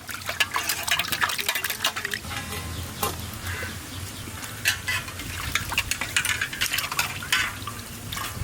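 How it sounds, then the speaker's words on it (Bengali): Fresh hilsa fish being washed by hand in water, with steady splashing, sloshing and scraping close up, continuous throughout with brief louder handling bursts. "একটু ধুয়ে নেবো প্রথম, তারপরে কাটার পর আবার ধুয়ে নেবো"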